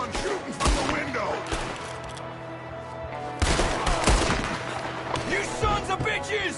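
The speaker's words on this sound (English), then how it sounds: "there's another one shooting from the window" Gunfire in Red Dead Redemption 2 as an enemy shoots from a window: repeated gunshot bursts and heavy booms over several seconds, with a second loud volley near the end, mixed with speech and game sounds.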